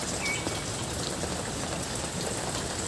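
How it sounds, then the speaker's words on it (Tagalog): Heavy rain falling on a farm, a dense, steady roar of drops on surfaces with no letup, close and fairly loud, no voices. "hanggang ngayon hindi pa rin natigil yung ulan, mas lalo pang lumakas"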